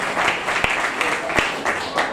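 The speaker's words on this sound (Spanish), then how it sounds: "denle un aplauso al Señor." A church congregation claps together in a brief burst of applause, a moderate crowd patter with a few sharper individual claps standing out.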